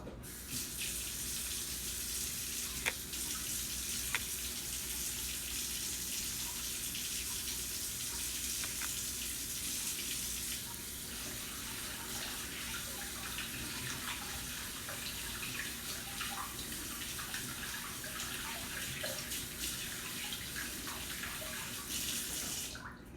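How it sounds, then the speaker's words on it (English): A tap runs into a sink while hands are washed, a soft, steady stream of splashing water that continues unbroken with faint handling noises and no speech. "I'm gonna wash my hands first, really quick"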